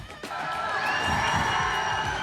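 A big outdoor crowd at a motorsport drifting festival roars and cheers loudly and steadily, with whoops and shouting children rising over a continuous wash of noise.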